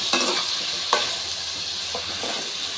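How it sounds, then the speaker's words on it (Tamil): Steady sizzling of vegetables sautéing in a pan for drumstick kara kuzhambu, with a few scraping stirs of a spatula over a continuous hiss, fairly close and moderately loud. "நல்லா வதக்கிக்கலாம்."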